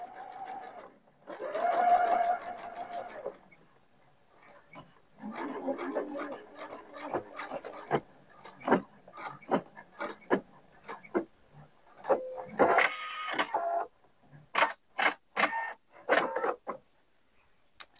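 Short bursts of a sewing machine stitching across a pocket seam come in and out, mixed with fabric handling, clicks and a speaking voice, all close and moderately quiet.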